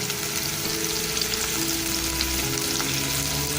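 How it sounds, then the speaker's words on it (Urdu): Carrots and bell pepper fry in hot oil, a loud, steady, close sizzle that continues without a break and with no voices. "اور اسے ہلکا سا فرائی کریں گے۔"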